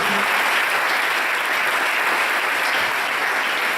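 A church congregation at a spiritual retreat claps in sustained, dense applause, loud and close, a steady wash of many hands with no pauses.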